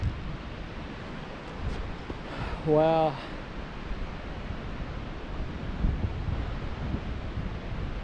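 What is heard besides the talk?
waterfall in the Blue Mountains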